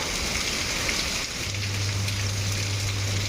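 Steady rain pouring down outdoors, a dense, even patter and hiss close by, with a low hum joining partway through and no talk.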